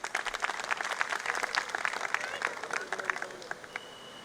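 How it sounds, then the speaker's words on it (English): An audience at a CFO's speech breaks into steady applause, dense overlapping claps with a few louder sharp ones, moderately close, with voices murmuring underneath. "A big round of applause for Siddharth bhai too."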